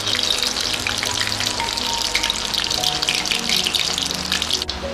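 Spices crackle and sizzle in hot mustard oil in a heated kadai as a Bengali fish dish is tempered, a loud continuous frying hiss close by with no talking.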